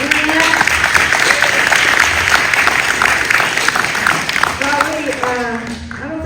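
Meeting audience applauding the candidates, a loud dense patter of many hands clapping steadily, with a voice speaking over it in places before it fades at the end.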